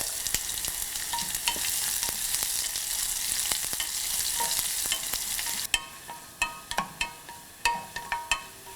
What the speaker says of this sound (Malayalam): കട്ട് ചെയ്ത് വെച്ചിരിക്കുന്ന ചെറിയ ഉള്ളിയിട്ട് വഴറ്റുക.